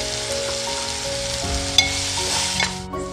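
Garlic, chili and ginger paste with asafoetida and turmeric sizzles steadily in hot oil with onion and tomato for methi bhaji, a dense continuous frying hiss with a few soft stirring clinks.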